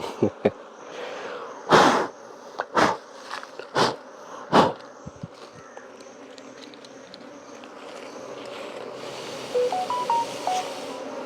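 Bees at a beekeeping hive hum in a steady, faint drone, broken by several loud thumps and handling knocks near the hive, with a little talk at points.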